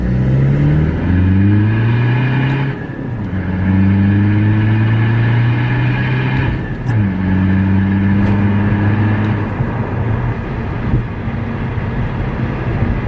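A 2-litre diesel car engine idles with a steady, loud, low throbbing clatter, its pitch shifting slightly a few times.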